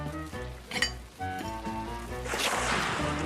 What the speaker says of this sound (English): Ah, my omelette flambe.